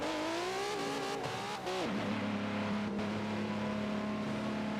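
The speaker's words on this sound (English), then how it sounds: "Yeah, you can hear that that car's not happy. That car is busted." A damaged race car in a racing game at Indianapolis Road Circuit, its engine droning with a rough, strained tone that drops in pitch and settles into a steady, labored hum.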